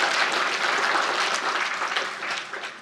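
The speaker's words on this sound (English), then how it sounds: "Please, clap your hands." Audience applause at a technology conference keynote, a steady, moderately distant wash of clapping from a large crowd that holds evenly, then tapers off near the end.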